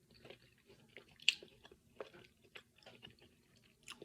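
Someone chews tender hot meat up close, making soft wet crunching and squishing bites at irregular intervals, with small clicks in between.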